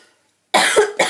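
A person coughs twice, loud and close, after near silence: a sharp first cough and a shorter second one.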